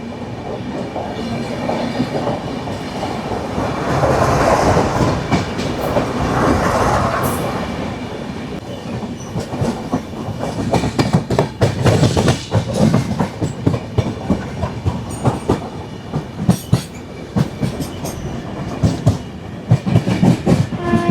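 A moving superfast express mail train, the 22157 from Mumbai CSMT to Chennai Egmore, rumbles steadily along the line, with loud rhythmic clickety-clack of wheels over rail joints growing sharper and denser toward the end.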